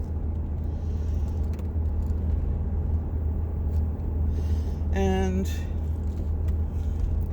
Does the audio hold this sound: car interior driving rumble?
yes